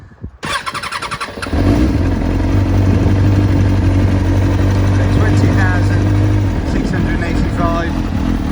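A 2004 Kawasaki ZX6R 636 sport bike with about 20,000 miles fires up with a sharp start, then settles into a loud, steady, close idle that holds throughout.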